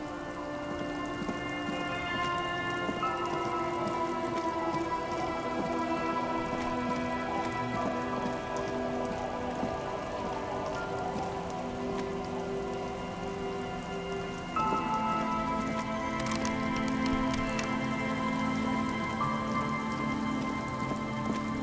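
Steady rain falls in the Disco Elysium video game, patter on surfaces beneath a sustained tonal musical drone that shifts pitch partway through, no voices.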